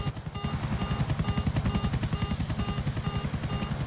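A helicopter in Grand Theft Auto 4, a loud close rotor thump beating in a fast, steady rhythm over an engine whine, continuous throughout with no voices.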